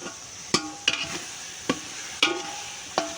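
Spices, red chili powder and biryani masala are mixed into chicken pulao frying in oil over a wood-fired clay stove, with about six distinct scraping strokes of a spoon against the pot over a soft sizzle.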